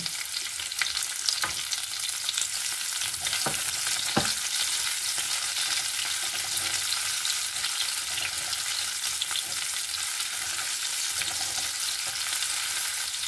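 Onion sautéing in a pan, a steady bright sizzle running the whole time with a few sharp stirring clicks near the start, fairly close and alone with no talk.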